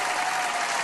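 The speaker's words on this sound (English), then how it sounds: "I'm gonna give you some claps here" Hand clapping applause on a drum livestream, a dense continuous patter of claps, loud and close, with no talk over it.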